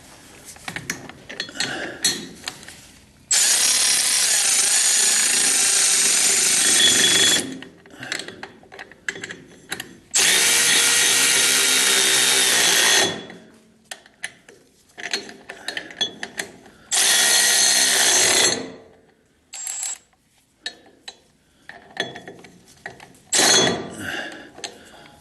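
Power ratchet tightening half shaft bolts on a 1976 Corvette: three long, loud whirring bursts of several seconds each, with a shorter fourth burst, separated by clinks and handling noises of tools and parts.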